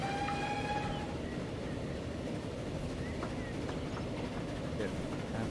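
A train rolls along in the railway simulation game Transport Fever on an East Coast Main Line map near Peterborough, a low steady rumble with faint whistle-like tones near the start.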